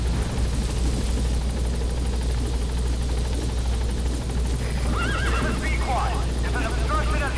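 A horse whinnies in Metal Gear Solid V: The Phantom Pain over a constant mechanical drone with rapid thumping like a helicopter, with people talking throughout.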